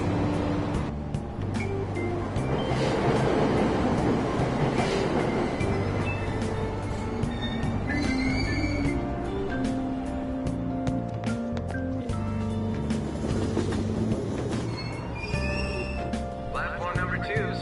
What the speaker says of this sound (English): Train doors are now closing.